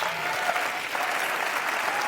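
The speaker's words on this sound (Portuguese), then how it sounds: "Aplausos." A talk audience, heard after a spoken-word poetry performance, gives a dense, continuous burst of applause at close range that holds at an even level throughout.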